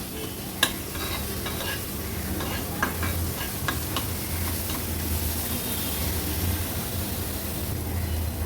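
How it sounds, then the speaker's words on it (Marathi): Ground masala paste sautéed with onions in a pan for an Agri-Koli style seafood curry, a continuous close sizzle with occasional light ticks and spoon taps from stirring, no talking. "वाटण कांद्यासोबत छान परतून घ्यायचं आहे आपल्याला"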